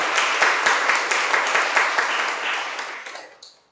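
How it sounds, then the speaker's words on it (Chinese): A church congregation claps to welcome a newcomer, producing dense, lively applause at close range that carries evenly for about three seconds before fading out. "我们拍手欢迎天堂加入我们当中"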